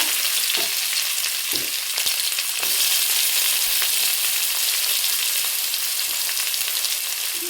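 Sliced onion frying in a pan after mustard seeds, a loud, dense, continuous sizzle close up with occasional scraping knocks from stirring and no voices.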